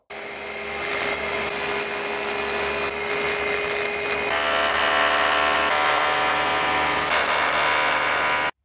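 A power drill bores holes into a stairwell wall for handrail wall plugs, whining steadily and loudly at close range without pause, its pitch shifting slightly partway through.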